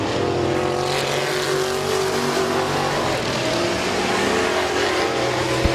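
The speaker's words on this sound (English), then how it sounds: "Jeff Lindstorm still out there racing." Race cars roar around the Midvale Speedway oval in a dense, loud, continuous engine drone with shifting revs, several cars blending together at close range.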